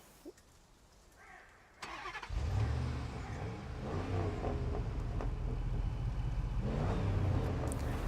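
Truck engine cranking and catching in the SnowRunner video game, a quiet lead-in followed by a starter churn, then a loud steady diesel-like idle rumble that swells slightly near the end.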